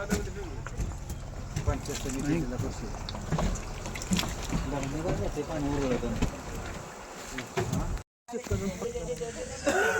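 Zilla parishad boat arranged by the government carrying passengers across water, a steady engine and water rumble continuing throughout, with people talking over it.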